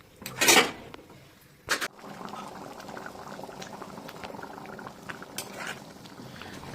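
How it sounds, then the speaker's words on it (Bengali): Egg tarka gravy with added water bubbles steadily in a pan, a close, continuous simmering crackle. Two brief louder splashes or stirs come near the start. "তো দেখুন এটা ফুটতে শুরু করে দিয়েছে।"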